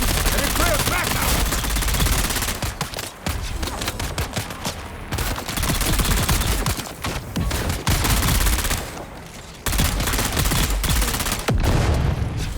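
Dense controlled bursts of automatic gunfire in the Dune survival game, loud and continuous with brief gaps between volleys, set against busy combat noise.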